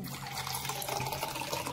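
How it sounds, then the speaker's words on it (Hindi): Water poured into kidney beans in a pressure cooker: a steady, close splashing gush of liquid lasting under two seconds, with no talk. "इसमें 2 ग्लास पानी दे दिया।"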